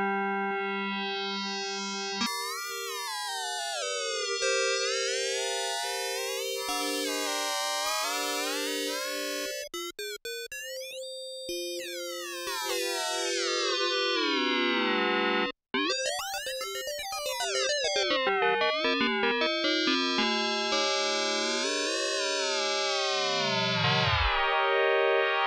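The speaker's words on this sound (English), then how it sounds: "We can now use the macro controllers to dynamically shape our FM sound." Arturia MiniFreak synthesizer playing an FM patch whose timbre is swept by macro controllers, producing bright, shifting metallic tones with gliding pitches and sudden jumps, loud and continuous with one brief dropout.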